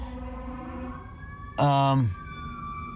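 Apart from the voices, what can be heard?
emergency vehicle sirens passing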